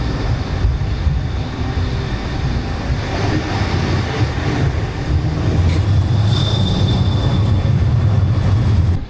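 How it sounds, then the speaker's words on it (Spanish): A new-model city tram in Bulgaria rumbles past on the street, loud and close, with a steady low roar and a faint high squeal partway through. "este es el modelo nuevo de tranvía. Sí. Y ese que viene aquí también."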